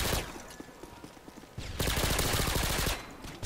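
Rapid MP5K submachine gun fire in a video game, dense bursts of close, loud shots with a quieter gap of scattered clicks in between.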